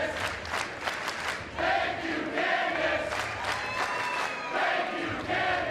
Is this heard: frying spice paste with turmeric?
no